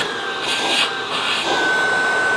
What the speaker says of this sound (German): habe ich ja hier einen Staubsauger bestellt. Kabellos, mit Akku.